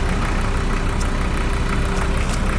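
A Jeep Grand Cherokee WJ engine idles steadily nearby, a constant even hum with a faint tonal drone and no break or change.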